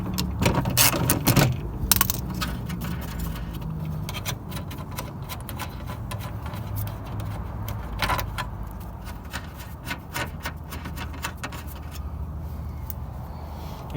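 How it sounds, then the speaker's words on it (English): A 2000-2011 Cadillac DeVille rear door is being worked on as a wrench takes off the 10 mm nuts holding the power window regulator, producing close, scattered metallic clicks and ratcheting ticks over a steady low background. "There's 3 bolts that hold this regulator in, one at the top here, and then 2 at the bottom. The 10 millimeter nuts you remove"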